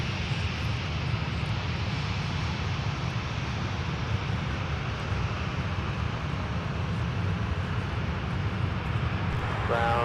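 An American Airlines jet bound for Dallas-Fort Worth taxis at Minneapolis-St. Paul airport, giving a steady, loud jet-engine roar that holds evenly throughout with a broad low rumble.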